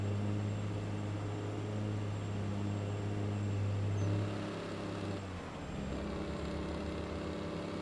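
A heavy truck in Farming Simulator drones with a steady low engine tone, then the Jake brake cuts in with a sharp drop and shift in the rumble, alone without talk.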